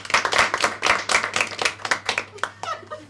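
A comedy-show audience claps in a loud burst of distinct, fairly rhythmic handclaps that gradually thin out toward the end, with a bit of crowd noise mixed in.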